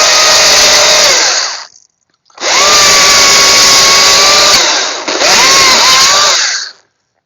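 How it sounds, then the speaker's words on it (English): A battery-powered electric chainsaw revs in three loud bursts, each a high steady whine without engine rumble, the motor pitch rising and dipping slightly before spinning down between runs. "there's plenty of power in this chainsaw."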